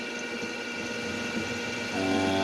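A milling bit cuts a keyway, a little at a time, into the steel mandrel shaft of a Grizzly wood shaper, a steady whining machine hum with tonal overtones that rises slightly louder near the end.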